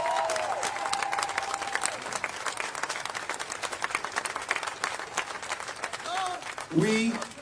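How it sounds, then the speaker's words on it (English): A protest crowd in New York applauds, with sustained close clapping throughout and a few scattered cheers, while a voice speaks briefly at the start and again near the end. "So give yourself a round of applause because we got that."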